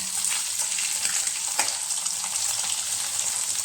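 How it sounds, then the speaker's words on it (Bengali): Amudi fish frying in hot oil in a wok, a steady hissing sizzle with faint clinks and stirring, close and continuous with no talk. "একে একে আমি মাছগুলো উল্টে দিলাম মাছগুলো কিন্তু ভাজা হয়ে গেছে"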